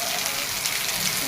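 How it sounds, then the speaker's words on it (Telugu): Steady rain falls in a village, a continuous even hiss of drops on surfaces with no breaks and no other sound standing out. "వర్షం పడుతుంది."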